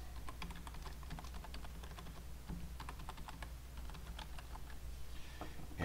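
Keys clatter on a computer keyboard as a web address is typed in, a steady run of quick close clicks over a low background hum with no talking.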